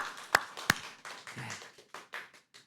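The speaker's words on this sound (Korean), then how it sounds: "이런 때는 위대하신 하나님을 향하여 박수 한번 올려야 됩니다." A church congregation at a Sunday service claps together, with two sharp loud claps followed by a looser run of softer, scattered hand claps.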